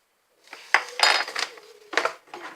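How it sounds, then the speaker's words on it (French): Utensil scraping and clinking against a bowl while vegan waffle batter is mixed, in uneven bursts of clatter separated by short pauses. "Puis vous mélangez."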